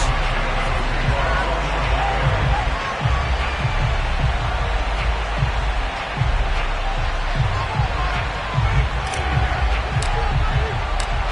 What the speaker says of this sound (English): Somehow this place got even louder a short time ago as the Falcons were introduced to this sellout crowd.